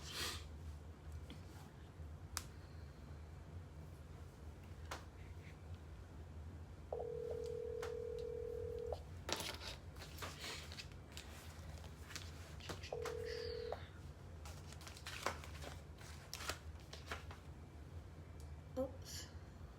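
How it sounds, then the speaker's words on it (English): Two sustained telephone dialing tones sound about two seconds apart before a phone call, the first lasting around two seconds and the second shorter, over steady low room hum and scattered faint clicks and breaths. "we're going to make this phone call now"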